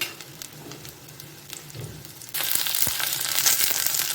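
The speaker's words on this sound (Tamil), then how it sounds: "இந்த எண்ணெயில் வந்து வெண்டைக்காய் நல்லா வதங்கட்டும்." Sliced okra frying in hot oil in a home kitchen pan, a soft sizzle that starts low and quiet, then jumps to a louder, steady crackling hiss partway through, with a few small clatters.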